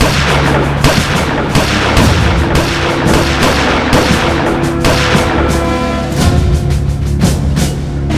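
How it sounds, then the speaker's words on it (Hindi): Rapid, loud gunfire from a shouldered gun in a televised crime drama, with dense overlapping shots and booming reports continuing without a break. "गन कंधे पे, लोड करो, फायर"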